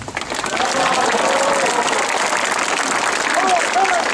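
A large audience applauds a speech about Poland's defense example, loud, dense clapping holding steady across the whole stretch, with faint voices and cheers rising within it.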